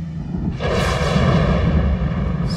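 A sustained, roaring explosion from a sci-fi film bursts in after a brief quiet moment, a loud broadband rumble with a heavy low end that holds steady for about two seconds.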